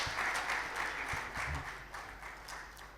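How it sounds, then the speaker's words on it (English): Scattered audience clapping at a Deloitte economic dialogue on the mid-year budget, faint and distant, with a low hum and a few louder claps standing out before it fades. "I think let's clap for him again."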